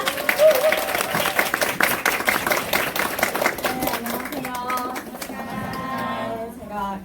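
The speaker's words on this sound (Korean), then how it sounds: "우리 최혜리 강사님을 큰 박수로 앞으로 모시도록 하겠습니다." An audience breaks into big applause to welcome a beauty-class instructor to the front, loud clapping that fades out midway, after which a voice begins speaking.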